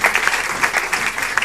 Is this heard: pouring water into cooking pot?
no